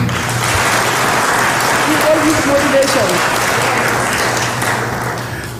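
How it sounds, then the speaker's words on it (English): Audience clapping at the close of Nairobi Innovation Week, a dense sustained patter with a speaker talking over it throughout. "Can you clap for him, please?"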